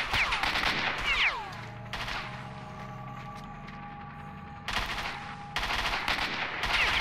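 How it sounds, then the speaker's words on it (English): Gunfire in the shooter game S.T.A.L.K.E.R.: Shadow of Chernobyl, loud bursts of automatic shots at the start and again near the end, with a quieter humming stretch between. "I'm getting shot from behind me, aren't I?"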